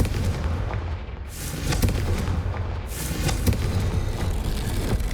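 Confringo fire spell blasts in the game Hogwarts Legacy, with booming explosive impacts and rumbling crackle spread across the clip, loud and dense, with no talk.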